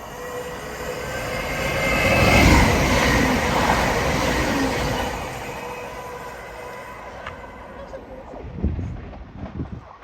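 A turbo diesel passenger train passes through Princes Risborough station, a broad rumbling roar that swells to a peak early on and slowly fades, with a few wheel clicks and clatters near the end.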